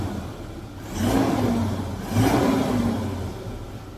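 A Toyota Revo pickup engine, fitted with an electric throttle box, revs up twice from idle, each rise a smooth mid-pitched climb that holds briefly and settles back, heard close and alone.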